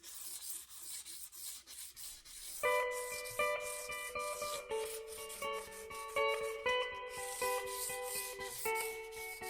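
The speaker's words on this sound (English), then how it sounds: "It's very sharp and we're going to soften it with some high grit sandpaper." High-grit sandpaper rubbed along the sharp fretboard edge of a 1920s KeyKord tenor guitar, close, steady scratchy strokes under ringing tonal music.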